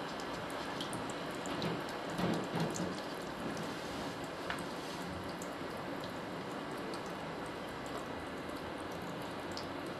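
Water poured like rain over a classroom landform model makes a soft, continuous patter and trickle that stays faint and even, with a slightly louder splash early on.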